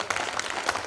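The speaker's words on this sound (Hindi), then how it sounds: "सारे लोग एक बार जोरदार तालियां इसरो के लिए बजाएंगे।" A brief burst of steady applause from an audience at a Hindi comic poetry gathering, many hands clapping at once, fairly close and loud.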